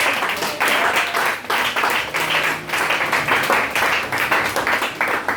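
A church congregation claps and applauds during a worship service, dense, continuous and loud with a rough rhythmic pulse, with some voices mixed in.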